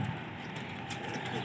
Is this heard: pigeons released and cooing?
yes